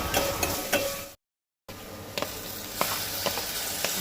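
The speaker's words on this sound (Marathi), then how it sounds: "कांदो बरो 2 मिनटां बरो तेलार परतून घेता।" Chopped onion and a green chilli fry in hot oil in a pan for a Goan dish. The close, crackling sizzle is broken by scattered stirring clicks and a brief half-second gap of silence.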